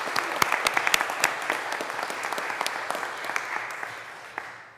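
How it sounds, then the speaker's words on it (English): Audience at a county board of commissioners meeting applauds a volunteer, a steady wash of dense clapping that holds for several seconds before tapering off at the end. "Let's give Gail another round of applause."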